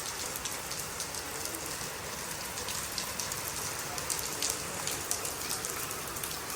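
Steady rain falls in rice paddy country in Punjab, a dense continuous hiss of drops pattering on surfaces at an even level throughout, with no voices.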